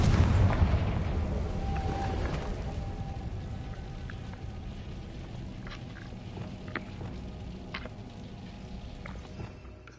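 Confringo blasting spells detonating in Hogwarts Legacy, a loud booming burst at the start followed by a sustained crackling, rumbling wash with scattered sharp debris-like pops fading over several seconds.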